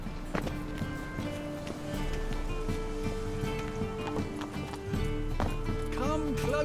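Roach the horse from The Witcher 3 clops along at a run, hoofbeats steady and fairly close beneath a dense layer of game music and ambience, with voices talking over the top.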